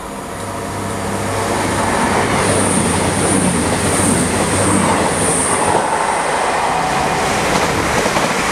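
A passenger train running from Birmingham New Street to London Euston rolls past close by on a railway crossover, a loud sustained rumble of wheels and carriages with rhythmic clatter and faint squeal building up and holding steady.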